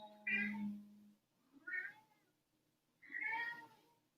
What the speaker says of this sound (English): My cat's been joining me on that one